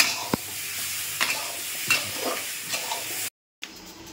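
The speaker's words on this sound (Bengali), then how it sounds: "ঢাকনার তুলে একটু নাড়াচ্ছে" Potato and green banana curry stirred in a pan over low heat in a village kitchen, a soft steady sizzle broken by several scraping strokes of the spoon, then a brief cut to near silence before the simmer returns.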